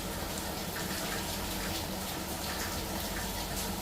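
Saffron water poured over a homemade veg biryani gives a soft, continuous trickling gush, fairly quiet and unbroken from start to finish.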